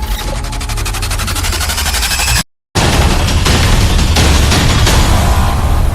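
A bomb goes off in a film trailer: loud, close booming bursts with crackling debris, broken by a sudden cut to silence before the rumbling resumes.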